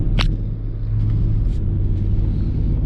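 A BMW being driven, its steady low engine rumble and road noise continuous and close throughout, with a couple of faint brief clicks and squeaks over the drone.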